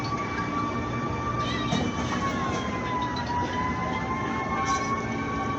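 Fire truck siren from arriving firefighters at a third-alarm residential fire in Zapote, Bacoor, Cavite, a long steady wail running through a continuous loud background rumble, with faint voices.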